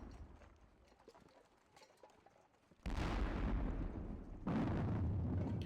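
Cannon artillery in the Napoleonic war game WDS Napoleonic booms twice in quick succession, two loud, broad blasts rolling out after a quieter stretch of faint clatter and ambient battlefield noise, with no voices.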